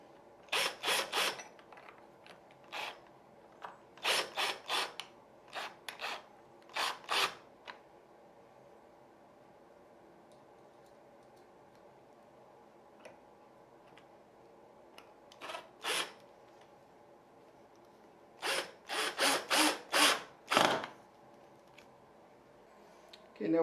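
Screws being driven to fit a door strike plate: clusters of rapid ratcheting clicks from a screwdriver, close and crisp, separated by quiet pauses over a faint room hum.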